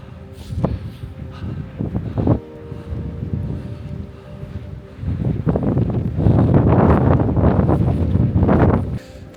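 Strong wind gusting across a mountain ridge above the Drava valley, buffeting the microphone with loud, continuous low roaring that swells in bursts and rises to a heavy sustained blast toward the end.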